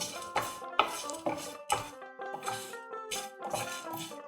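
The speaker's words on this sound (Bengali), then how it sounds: "আঁচটা একদম সিমে করে দিয়েছি আর হালকা করে এটা একটু নেড়ে নেব।" Dry red chilli, cloves and whole spices stirred in a pan over a low simmer, with a utensil scraping and clinking against metal in repeated strokes, close and moderately loud, while tonal background music plays underneath.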